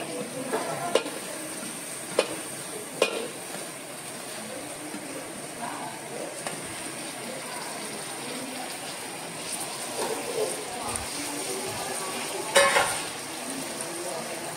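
Masala with tomato and Everest garam masala being stirred in a hot pan for misal, a steady close sizzle with scraping spatula strokes and occasional sharper clinks throughout.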